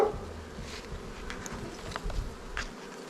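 Honey bees buzz around an open hive on an Alaskan homestead, a soft, continuous hum with a few nearer bees passing close by.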